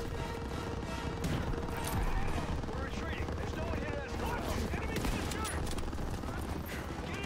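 Dense, continuous gunfire from a World War II first-person shooter with an STG44 in play, rapid overlapping bursts and crashes throughout, with a voice talking over the shooting.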